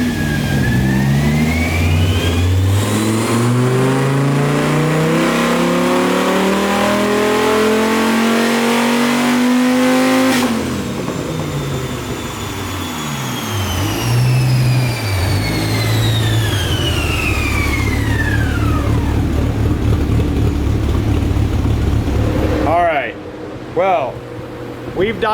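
A nitrous-fed Dodge Viper engine revving on a dyno during a pull, a loud close roar climbing steadily in pitch, dropping off, then climbing again before cutting out abruptly, with brief rattles afterward.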